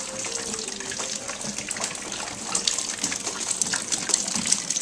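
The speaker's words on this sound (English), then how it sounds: "it is pouring rain out" Heavy rain pouring down outside a recording studio in Chicago: a steady, dense hiss and gush of falling and running water, continuous and fairly loud throughout with no voices.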